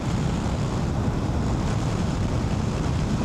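Wind roars constantly into the microphone while riding a motorcycle along country roads, a loud, thick, low buffeting rush with no talking over it.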